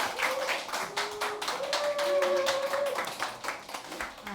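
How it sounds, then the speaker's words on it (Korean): Church congregation clapping to welcome a pastor, a brisk run of hand claps from a modest crowd, fairly close, with a sustained musical tone beneath. "우리 박수로 환영합시다."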